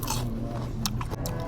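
Someone bites into crunchy battered frozen-style fries at a fish fry pizza shop, giving a few close, sharp crunches with chewing between them and no talking.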